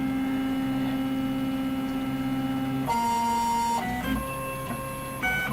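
A Robin 3D printer runs its auto-leveling routine with steady stepper-motor whines that jump between pitches in distinct stages, close and fairly loud over a low hum.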